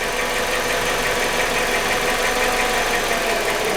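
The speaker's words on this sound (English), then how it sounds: "The engine is sort of shaking and not running right" A car engine runs rough and shakes, giving a steady, continuous loud mechanical drone with an uneven, knocking texture and no voices over it.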